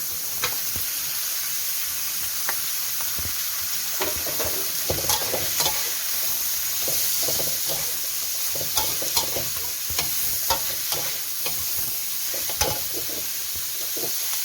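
Snow peas stir-frying with pork belly in a hot pan, a steady sizzle under repeated clinks and scrapes of a spatula tossing the ingredients, close and fairly loud throughout.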